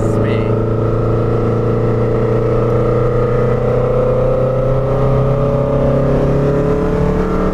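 A 120hp 1963 VW Beetle four-cylinder accelerating, its loud, steady engine drone rising gradually in pitch throughout.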